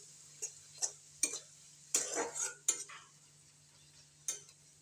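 Duck meat in a pan is stirred with salt and turmeric, giving a few sharp utensil scrapes and clinks at an uneven pace, close and fairly quiet.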